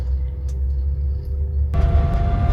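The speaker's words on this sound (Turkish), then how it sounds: "Yuki Ami Mini yeni kasa aracın sürüş testini yapıyoruz" A new-body Yuki Amy Mini electric car drives along a road, producing a steady low rumble of road and cabin noise that turns brighter and rougher partway through, with no speech.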